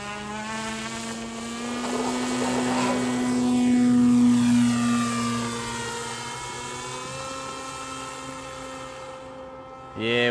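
RQ-7 Shadow RC model airplane flying passes overhead, a steady propeller drone with harmonic whine that swells as it nears around four seconds, then Doppler-drops and fades away, with a brief louder burst at the end.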